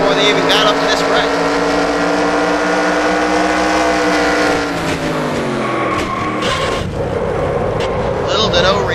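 Race car engines screaming during a wreck in a stock-car racing video game at Homestead-Miami, loud sustained whining pitches sliding downward amid skidding noise, with commentators talking over it.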